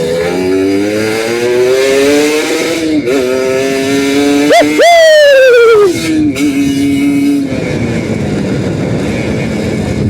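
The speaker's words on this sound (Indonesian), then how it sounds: "Motor 2 tak itu ya, di atasannya itu ngejambak gitu loh" A two-stroke motorcycle engine revs hard and loud while overtaking a truck on a road, its pitch climbing and dropping through several gear changes with a rough, buzzy drone and a brief surge near the middle.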